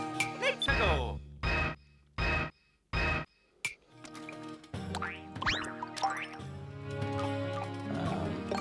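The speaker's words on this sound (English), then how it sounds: "Bomb is an orchestra hit like you get in the old style keyboards." Four short, punchy orchestral stabs hit in a quick sequence, like the orchestra hit of old-style keyboards, as a video game bomb sound, followed by bouncy synthesized game tones and tinkling jingles.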